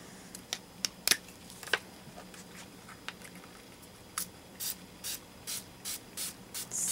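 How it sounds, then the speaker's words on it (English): A spray bottle of orange paint hisses in a series of short bursts over a stencil, scattered at first and then settling into a regular rhythm of quick sprays, close by. "I think this time I'm just going to use a spray."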